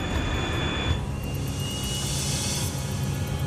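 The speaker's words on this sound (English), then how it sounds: "The plane lifts off the runway." A fixed-wing airliner's jet engines roar steadily at full takeoff power as the plane lifts off the runway, a loud continuous broadband rush with no voices.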